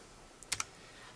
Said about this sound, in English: press the Windows button on your keyboard, hold it down, and press the G button